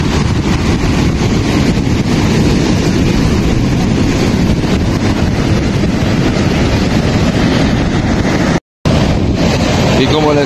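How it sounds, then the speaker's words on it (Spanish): A river flowing into the sea between Colima and Jalisco, a loud continuous roar of rushing water and surf with heavy wind buffeting the microphone and a brief dropout near the end; a voice talks over it. "Aquí ya está entrando el agua al mar."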